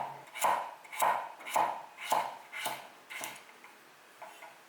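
A knife slices through peeled, halved pumpkin on a cutting board, with about eight evenly spaced, crisp chopping strikes that fade slightly toward the end, close and clear with no talk.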